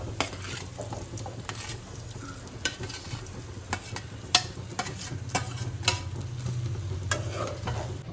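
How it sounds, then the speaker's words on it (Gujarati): Hot oil sizzles steadily as dry vegetables are tempered, punctuated by frequent sharp clicks and scrapes of a spoon stirring against the pan. "ઓરિસા અત્યારે સુકી ભાજી વઘારે છે"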